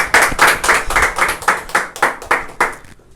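A small audience at an Independence Day event claps in a brisk, uneven rhythm of about a dozen sharp beats to welcome a guest, close and loud, before fading out.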